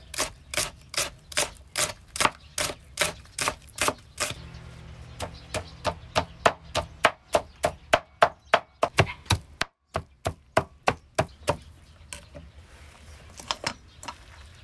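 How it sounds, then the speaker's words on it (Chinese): Scallions are chopped with a cleaver on a wooden board for pork and radish bun filling: rapid, steady, close thwacks in long runs, with a brief pause midway before the rhythmic chopping resumes. "再剁点葱"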